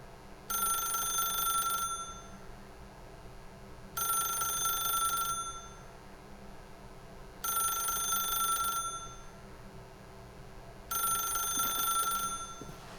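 A telephone rings in the video game The Stanley Parable, four separate bursts of bright bell-like ringing spaced evenly with quiet gaps between, clear and alone with no talk.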